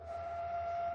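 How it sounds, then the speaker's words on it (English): A train from a train simulator video game rolls past as a steady, continuous rumble with a sustained tonal hum, loud and unbroken over one second with no talk. "and then the train comes by,"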